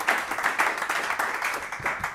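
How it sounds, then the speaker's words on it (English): A small audience claps steadily for a couple of seconds, quick scattered hand claps at moderate volume. "Just give an applause to them"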